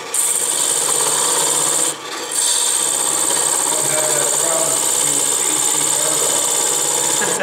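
A carbide tool cutting wood at a carving demonstration, a continuous close rasping and grinding with a shrill whine over it, pausing briefly once before resuming.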